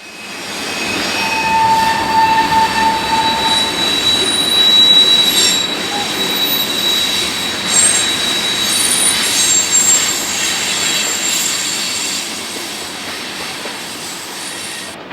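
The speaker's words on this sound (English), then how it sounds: "The train will take IC rails into downtown Chicago before getting onto the GM&O near Bridgeport." A Canadian National train rolls past on the rails, loud and close, with a continuous rumble, high wheel squeals and faint clicking of wheels that build and then slowly fade.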